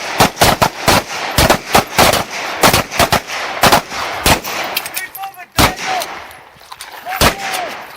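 Pistol shots ring out in rapid, irregular bursts during a tactical fighting-pistol shooting drill, with many sharp, loud reports close by, a brief pause midway, then a few more shots.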